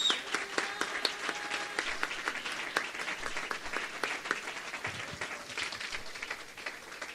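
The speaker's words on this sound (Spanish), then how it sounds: "Le da un aplauso al Señor." A church congregation claps in praise during a sermon, a dense, moderately distant round of applause that holds steady for several seconds before slowly thinning out.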